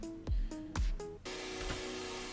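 A Savage Sounds supersaw synth preset plays stacked, sustained chord stabs, a few short hits followed by one held chord ringing out, loud and alone.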